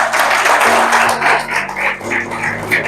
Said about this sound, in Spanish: Dar un aplauso a Dios por eso.